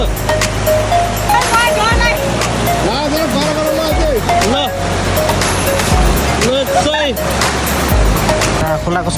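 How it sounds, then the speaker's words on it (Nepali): A river stream rushes near a jungle waterfall on a hike, a loud, constant roar of flowing water with people talking over it. "खोलाको साउन्ड चाहिँ सही आइरहेछ क्या"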